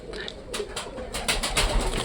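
A pigeon cooing close by in a loft where a baby pigeon is kept, soft repeated low coos over light rustling and faint background noise.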